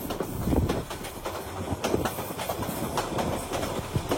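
A passenger train running through hill country from Nuwara Eliya to Ella in Sri Lanka, its wheels clattering in a steady rumble with rhythmic clicks over the rails, heard from inside the carriage, no voices.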